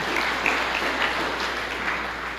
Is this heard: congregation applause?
yes